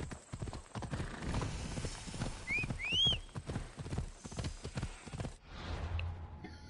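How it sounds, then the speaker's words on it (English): Hooves clip-clopping in a steady rhythm from a horse named Phobos in a Greek-set video game, with a short whinny partway through and game music and ambience underneath. "I now have a horse. His name is Phobos."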